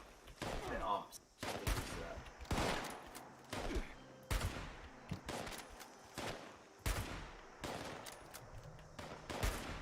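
Rapid bursts of gunfire from the video game CS:GO crack out in repeated volleys across the whole stretch, loud and close, with a person talking intermittently between the shots.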